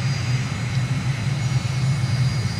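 A steady aircraft engine drone fills the cockpit of a simulated airliner on final approach as the landing gear comes down, a continuous low hum with a faint whining tone and no distinct clunks.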